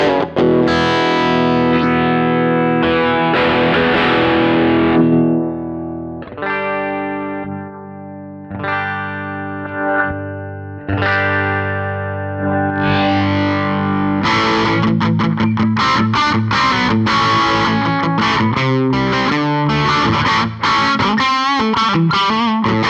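Electric guitar run through the Blue Cat Audio Axiom 2 amp plugin, loud and heavily distorted with chorus and effects, shifting between sustained chords and fast chugging riffs as the amp tone is swept.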